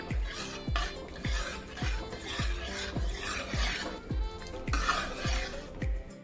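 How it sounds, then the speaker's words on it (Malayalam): Chickpea payasam is stirred in a pot with regular strokes about every half second, each giving a soft low thud and a scrape, close and steady throughout. "നല്ലോണം ഇളക്കാം"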